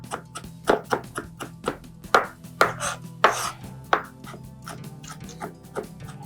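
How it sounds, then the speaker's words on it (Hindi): Ginger chopped with a knife on a board for an achari karela recipe, a steady run of sharp close taps repeating at a quick uneven rhythm, some strikes louder than others, with no talking. "चलें जी, अदरक को मैंने चॉप कर लिया है"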